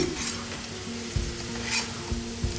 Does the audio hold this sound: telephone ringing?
no